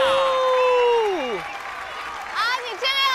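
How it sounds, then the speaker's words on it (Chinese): A studio audience on a costume variety show applauds and cheers to welcome a contestant, the crowd noise rising near the end under a voice that slides up and down in pitch. "让我们掌声欢迎王林凯"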